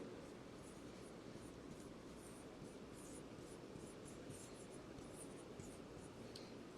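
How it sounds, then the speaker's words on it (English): Marker or pen writing big and bold by hand on a board, soft scratchy strokes in short bursts, faint over a steady background hiss. "I'm going to write it big and bold here"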